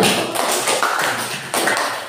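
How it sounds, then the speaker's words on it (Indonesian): A classroom group claps together in a dense, continuous patter of applause, close and fairly loud. "Tepuk tangan dulu."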